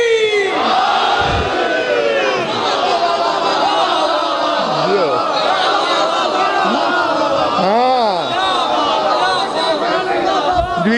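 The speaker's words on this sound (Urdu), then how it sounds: "نعرے کا جواب یکزبا ہو کے دیں گے، نعرہ حیدری!" Large crowd at a religious majlis gathering shouting a slogan back in unison, loud overlapping voices in rising and falling chanted swells that fill the hall throughout.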